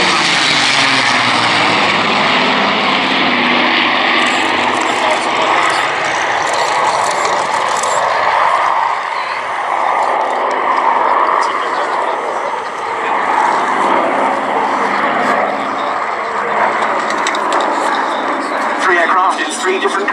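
Propeller aircraft at the Duxford VE Day air show, with the B-17 Sally B and escort fighters in US Army Air Force liveries, giving a loud continuous engine drone that holds for the whole stretch with a slight dip midway.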